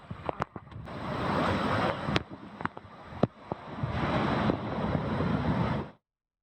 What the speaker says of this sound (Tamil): கடல் சீற்றம் காரணமாக கன்னியாகுமரி அடுத்த லெமூர் கடற்கரைக்கு செல்ல சுற்றுலா பயணிகளுக்கு தடை